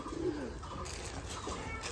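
A soft pigeon coo near the start over quiet background noise in a pigeon loft, followed by faint rustling.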